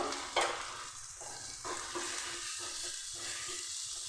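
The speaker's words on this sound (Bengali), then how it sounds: "সমস্ত কিছু একটু ভেজে নিচ্ছি" Ginger-garlic paste with turmeric, cumin and coriander powder frying in a pan, a steady close sizzle with soft stirring scrapes throughout and one brief louder burst near the start.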